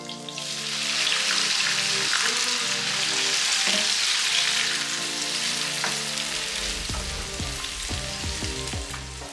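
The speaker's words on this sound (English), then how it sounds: "In a pan, I heated oil, then sauteed garlic until golden. Then added tomatoes." Tomatoes frying with golden sauteed garlic in hot oil in a pan give a steady, close sizzle that stays loud throughout, with occasional scraping as the mixture is stirred.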